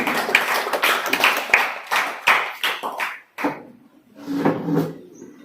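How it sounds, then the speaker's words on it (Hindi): An audience at a high school talk show in Mandivali claps in a dense burst that thins into scattered claps and fades, with some rustling near the end. "जनाब अखलाक नागुटे साहब को जोरदार तालियों के साथ"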